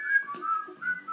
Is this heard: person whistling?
yes